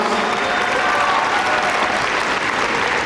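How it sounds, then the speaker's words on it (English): Steady, dense clapping from a large crowd at a graduation ceremony, loud and sustained throughout with no pauses. "Give him a big round of applause."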